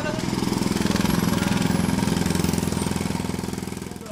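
Renovation work in a nearby apartment in Portugal makes a loud, rapid, machine-gun-like hammering of a drill or jackhammer. It runs continuously and fades slightly toward the end, with voices faintly present.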